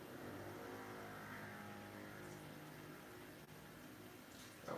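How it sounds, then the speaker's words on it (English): A loud car drives by outside, its engine a steady, faint rumble that builds and fades over a few seconds at a distance. "cars down here, they be loud"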